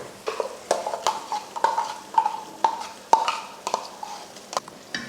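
A spoon repeatedly scrapes and clinks against a pan while ground coconut is stirred into cooked vegetables for a hotel-style bottle gourd dal kootu, a rhythmic series of close, bright knocks over a faint simmering hiss.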